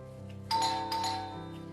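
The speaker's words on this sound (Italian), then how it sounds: "È arrivata Anna, ho sentito il campanello" A two-note electronic chime rings once, bright and clear, over a steady low hum in a quiet room.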